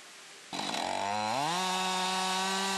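A chainsaw starts up and revs to a sustained loud whine while cutting hinoki cypress in a forest, its pitch rising then holding steady, close and alone.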